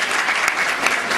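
Students clapping at a college event, a brief burst of scattered applause, fairly close and even throughout.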